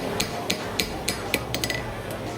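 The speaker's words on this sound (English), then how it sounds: "You're trying to hammer a new heel cut into it is what you're trying to do." A farrier's hammer strikes a diamond calk hind horseshoe on an anvil, shaping a new heel cut, with about a dozen sharp metallic rings close by in a quick, uneven rhythm.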